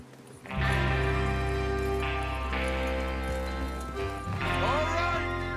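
Horses gallop with steady hoofbeats in the Red Dead Redemption 2 video game, heard under music and voices talking.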